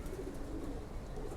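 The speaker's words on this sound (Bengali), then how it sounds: "কবুতরটা দেখুন" A silver pigeon coos in a low, continuous murmur, close by and moderately loud, alone without any talking.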